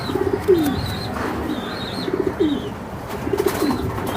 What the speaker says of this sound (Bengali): এই যে দেন একটা কবুতর এটা আমি একটু দেখাই